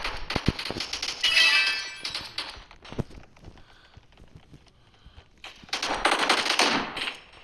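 Bursts of rapid automatic gunfire from a Roblox shooting video game, a loud volley at the start, scattered single shots in the middle and another dense burst near the end, with no talk.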